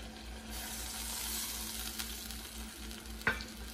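Uncooked white rice tipped into a pan of vegetables and stirred, giving a steady close sizzling scrape with a brief sharper knock of the utensil near the end.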